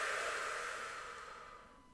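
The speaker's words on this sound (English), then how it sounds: "And then you're going to blow out through a straw." A long, steady breath blown out through a straw, a soft airy hiss that fades gradually over about two seconds, close and alone.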